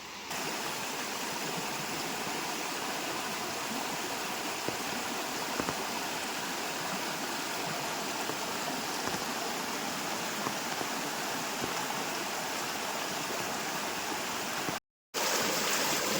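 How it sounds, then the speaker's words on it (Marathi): Steady, dense hiss of heavy monsoon rain pouring down continuously in the Konkan countryside, loud and close, with a brief dropout near the end. "पाऊस पडतो आहे खूप पाऊस पडत होता आता थोडाफार कमी झाला आहे"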